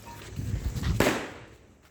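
A firecracker bursts during Tihar festivities, one short sharp crack rising out of a low murmur of nearby activity and fading quickly.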